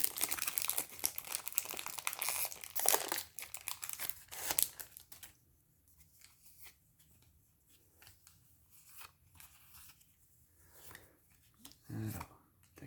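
A Duel Masters DM-04 booster pack wrapper crinkles and tears open close by, a few seconds of crackling foil followed by quieter handling and a soft tap.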